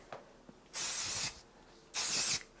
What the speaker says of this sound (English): So I'm gonna hairspray all of the sections